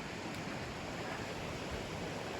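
A creek flows under a small wooden trail bridge in the High Sierra, a steady broadband rush of water, even and continuous with no voices.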